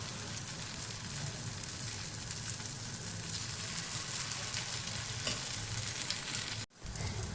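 Mung dal and vegetable tikki fry in a pan with a continuous, even crackling sizzle, close up and moderately quiet, interrupted once by a brief dropout near the end.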